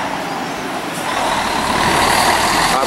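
Coach bus number 13973 at São Paulo's Tietê bus terminal, a loud close diesel engine idling and revving steadily, with a brief hiss like an air brake.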